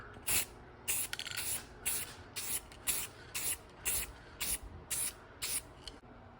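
An aerosol can sprays black paint onto 3rd Gen Toyota 4Runner engine parts, sending about ten short, close hissing bursts in an even stop-start rhythm.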